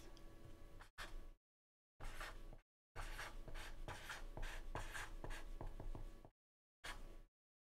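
Chalk or marker scratches out a small path graph on a lecture board in bursts of steady scraping strokes separated by short pauses, with no talking.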